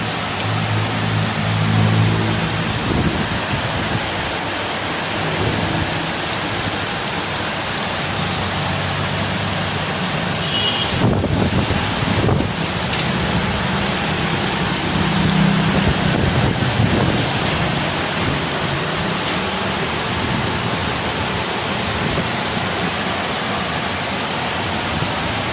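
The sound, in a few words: heavy rain, thunder and strong wind at night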